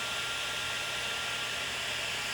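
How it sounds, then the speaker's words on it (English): Hair dryer blowing on its hot setting to melt crayons on a glass ornament, a steady close whooshing roar with a low motor hum and no talk. "You want your blow dryer on hot."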